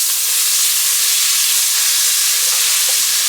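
Butter melting and sizzling in a pot over a lowered flame while mac and cheese is being prepared, a steady close hiss and crackle with no talking.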